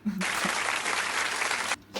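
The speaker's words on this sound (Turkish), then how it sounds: "Alkış efekti gelecek buraya." An applause sound effect plays in a home kitchen during a kimbap-making session, a burst of crowd clapping lasting under two seconds that cuts off abruptly, with a brief voice just before it starts.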